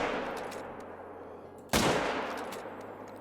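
A single loud rifle shot cracks out at lions in the hunting game Call of the Wild, a sharp close blast that decays over a second or so against a steady low ambient hum.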